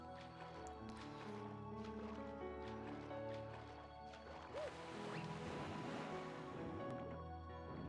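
Rushing, surf-like water swelling steadily as the water level rises in a modded Super Mario Galaxy 2 level, under layered game music with no talk.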